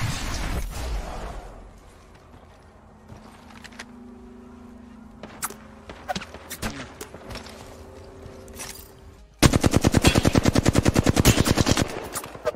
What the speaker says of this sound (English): That guy just started shooting randomly at me.